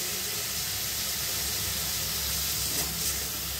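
Chicken keema fries in a pan over medium heat with a little salt, giving a dense, continuous sizzle and hiss close by with no talking.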